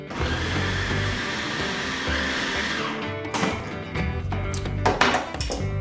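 A lidded blender whirs loudly and steadily as it purees garlic soup, the motor note shifting partway through as the contents churn, with a few knocks and rattles toward the end.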